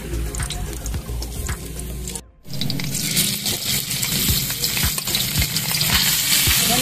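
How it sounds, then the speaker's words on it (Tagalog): Leftover cooked rice sautéing in a pan, a loud close sizzle with scraping and stirring strokes, briefly cut off before the frying resumes even stronger. "Gigisa na po natin."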